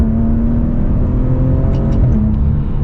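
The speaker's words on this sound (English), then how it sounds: "It's so quick and it sounds so good. Those downshifts are absolutely fantastic." Maserati Ghibli engine revving loudly and steadily up close, its note rising and falling through quick downshifts with a few sharp crackles near the end, no talking.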